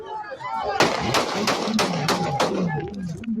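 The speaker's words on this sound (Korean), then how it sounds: "그 순간 수십 발의 총성이 울려 퍼집니다." A rapid volley of about half a dozen sharp gunshots cracks out at an Ecuadorian presidential candidate's car after a campaign rally, loud and evenly spaced, with shouting voices around them.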